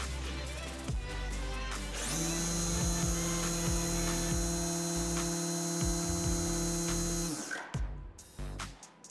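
A Rupes iBRID mini cordless polisher runs at its highest speed with a full battery, pad and compound, a steady high-pitched electric whine that starts abruptly, holds evenly for about five seconds, then winds down, close and alone.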